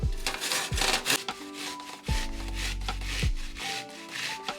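Garlic grated by hand on the fine side of a kitchen grater while making Izmir meatballs, close rhythmic rasping strokes in uneven bursts, with no one talking.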